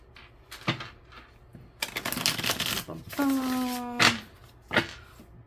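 Tarot cards are shuffled in quick riffling bursts at close range during a reading, with a person talking between the shuffles.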